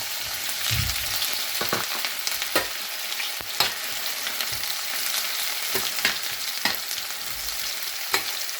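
Chopped ginger, garlic, onion and green chilli fry in a pan for a Kerala cashew curry. A busy, continuous sizzle is broken by sharp clinks and scrapes from stirring, heard close up with no talking.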